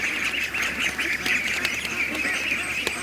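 A flock of domestic ducks quacks continuously and loudly nearby, overlapping calls with a few sharper honks mixed in.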